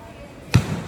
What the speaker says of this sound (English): Next station is going to be our slams.